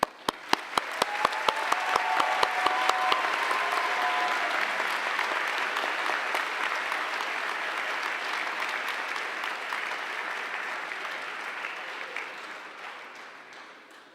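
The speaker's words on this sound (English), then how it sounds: "A round of applause for all the new alumni." Sustained applause from a large commencement audience honoring new graduates, opening with a few sharp individual claps before swelling into a dense, steady roar of hands that fades slightly toward the end.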